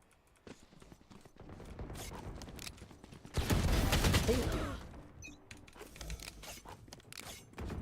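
Gunfire in the shooter Valorant, rapid bursts of shots and clicking weapon handling, with a loud sustained burst of fire in the middle, all fairly close and without talk.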